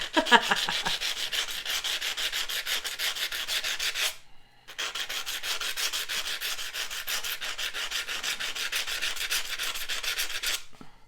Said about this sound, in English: And I am going to sand this down just a little bit.